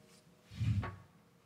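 A drawer slides open in a cruise ship cabin aboard the Holland America Line Koningsdam, giving one short, close, soft wooden rumble in a quiet room.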